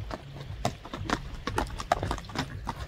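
A horse used for ulak goes by at a brisk clip, its hooves beating out a quick, even clip-clop of close, distinct strikes.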